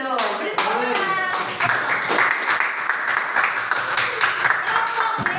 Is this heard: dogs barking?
no